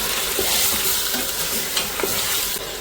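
Beef cooked in a pot with ginger garlic paste, 750 g of cow meat, sizzling and frying steadily with stirring scrapes, close and continuous, no voices.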